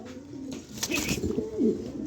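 A pair of top-quality pigeons coo close by, with soft rolling calls that swell toward the end over low background noise.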